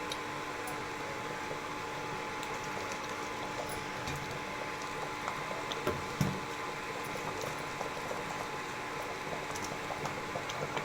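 A pot of goat head curry simmers and bubbles on the stove, a steady low seething broken by small pops, continuous and moderately loud throughout.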